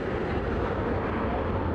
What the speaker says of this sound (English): Loud engine as it comes through. Hear that jet?